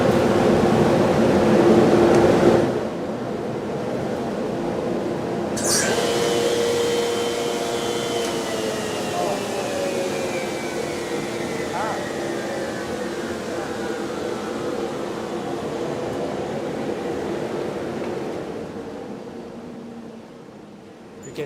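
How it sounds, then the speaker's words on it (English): A chip extractor on a LOGOSOL CH3 moulder runs as a loud steady airy roar, winding down gradually with a falling whine while people talk over it in a workshop. "I'll start the chip extractor."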